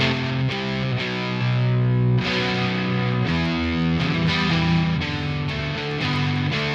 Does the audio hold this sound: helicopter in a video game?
no